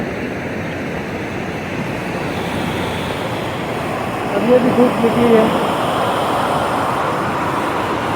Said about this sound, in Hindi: पानी का आवाज़ इतना जोर है शायद कुछ सुनाई भी नहीं दे रहा होगा